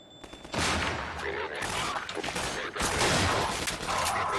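Sustained gunfire from Half-Life 2 Episode 1, dense overlapping shots and bursts in a loud firefight, broken by a short lull partway through.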